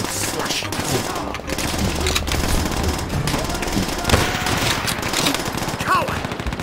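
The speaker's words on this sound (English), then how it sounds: "Sounds of battle and slashing fire." Sustained battle gunfire from the World War II shooter Call of Duty: World at War, a dense, continuous wash of rifle and machine-gun bursts with distant booms throughout.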